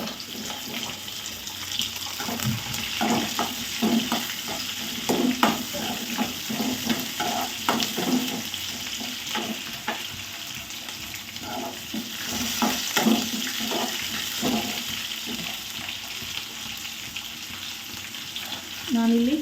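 Chana dal and onion fry in oil for a tomato chutney, giving a steady close sizzle with scattered stirring clatter and utensil knocks throughout.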